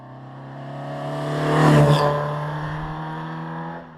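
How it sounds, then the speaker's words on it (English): A 1959 Sebring Sprite tribute car drives past with a steady engine drone that swells as it nears, peaks mid-clip with a brief rev, then fades away, heard alone with no talk. "This is a 1959 Sebring Sprite tribute car,"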